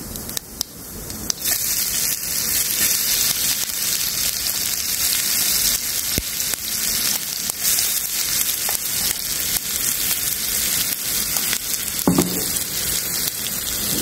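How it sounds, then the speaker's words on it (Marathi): Ground green chilli paste fries in oil over a low flame for a fasting-style chilli thecha, tempered with cumin, giving a steady, close, continuous sizzle for the whole stretch, with a few faint utensil knocks and no voices. "छान याला मंद आचेवर असा खरपूस परतून घ्यायचा अगदी कोरडा होईपर्यंत."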